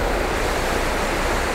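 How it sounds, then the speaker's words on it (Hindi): Seven-step waterfall in Kerala, a dense, constant roar of rushing water heard up close with no talk. "सेवन स्टेप का वाटरफॉल है ये"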